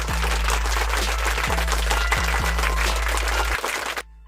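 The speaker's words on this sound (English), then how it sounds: "Let's get an applause." A crowd at a lowrider cruising gathering on a California street applauds in a dense, steady wash of clapping over a low engine-like hum, then cuts off abruptly near the end.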